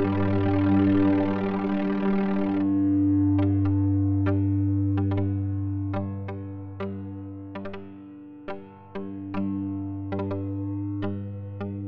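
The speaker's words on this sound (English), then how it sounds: "This one's a feedback wave shape LFO. We feedback an output to the rate CV input and crank the attenuverter." Ochd modular synth LFO patched as a feedback wave shaper, one output routed back to its rate CV input: a sustained buzzing drone that starts rough and noisy, then settles into a steadier tone punctuated by irregular sharp clicks and ticks.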